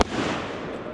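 A big fireworks battery fires one loud, close burst at the very start, and a dense, rumbling wash of noise follows and holds steady for about a second.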